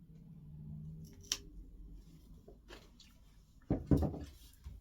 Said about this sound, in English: and then just snip it